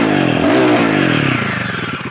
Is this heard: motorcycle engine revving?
yes